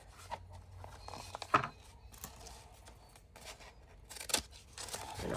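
Scissors cut journal paper close by in a few crisp snips and crunches, with soft rustling and handling of the sheet between cuts and no speech.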